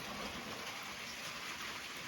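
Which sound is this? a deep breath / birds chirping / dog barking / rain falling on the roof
rain falling on the roof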